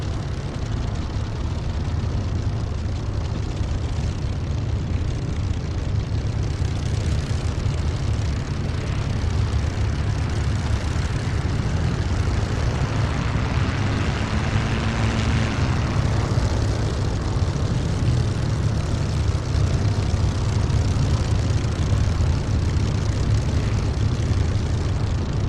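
A piston aircraft engine in the DCS flight simulator turns over and catches, settling into a steady, loud propeller drone with a low rumble that runs throughout, with no voices.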